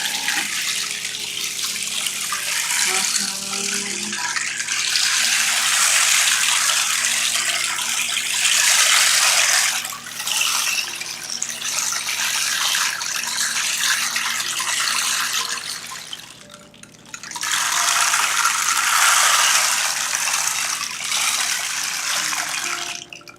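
Water pours steadily from a tap into a basin or tub, a loud, continuous gush that dips briefly around the tenth and seventeenth seconds before resuming, with no voices over it.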